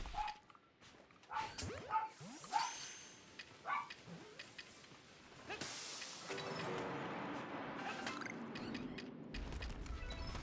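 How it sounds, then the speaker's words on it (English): Several dogs bark and yip in a burst of sharp, fairly loud barks, some whimpering between them, followed by a stretch of steady background noise. "Sorry about my dogs again."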